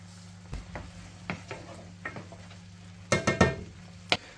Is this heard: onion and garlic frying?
yes